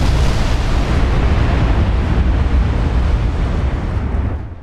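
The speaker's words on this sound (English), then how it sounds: "And an ammo detonation." A ship's ammunition detonates in a naval warfare video game, a loud, sustained roaring blast that fills the whole clip before slowly tailing off at the end, with no voices.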